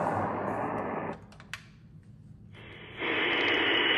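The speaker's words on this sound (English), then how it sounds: "All I get is fucking static." Broadband radio static hiss from a Hammarlund HQ180 receiver, loud and steady, dropping out briefly to a quieter hum with a faint blip before the hiss surges back even louder.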